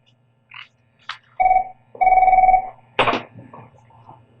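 A new telephone on a town board meeting's conference call rings in two long electronic bursts at moderate loudness, with a brief noise and a cough-like sound between and after.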